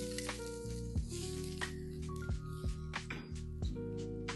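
Mustard seeds, fenugreek and chopped garlic sizzling in hot oil for tempering a squid pepper roast, a steady close crackle with sharp pops and spatters throughout, no talking.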